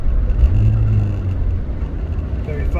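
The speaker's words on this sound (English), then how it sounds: "It doesn't want to rev." A Rover R8 engine idles and struggles to rev, producing a low, rough, droning hum that climbs briefly and then sags, close and fairly loud throughout.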